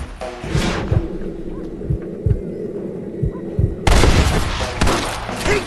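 Gunshots ring out in a Red Dead Redemption shootout, several sharp low booms spaced irregularly, then a dense louder burst of fire near the end, with faint voices under the shots.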